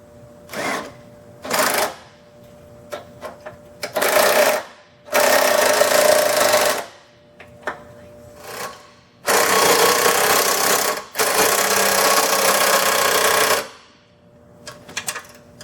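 Tow point bolts and nuts on a Jeep WJ are tightened with a power tool, several loud sustained whirring bursts of a few seconds each, separated by short clicks and quiet gaps.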